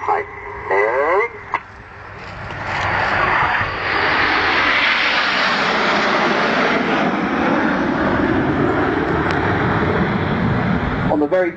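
Red Arrows BAE Hawk jets fly in tight display formation at RIAT 2012, a broad, steady roar building and holding close by beneath an excited commentator's voice.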